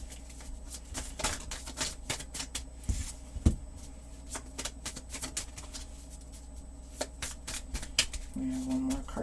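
Tarot cards are shuffled by hand close up, a rapid papery riffling and flicking with soft taps, repeated in bursts, while a voice talks softly in the background.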